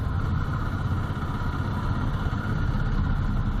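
Royal Enfield Classic 350 motorcycle cruising at 70 to 80 on a highway with luggage loaded behind, a steady loud low engine thrum and road rumble continuing unbroken.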